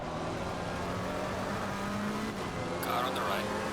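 Race cars in Assetto Corsa Competizione, a McLaren 720S GT3 among them, roar past during a 24-hour race at Brands Hatch. The engine drone stays steady and loud throughout, with a voice talking over it.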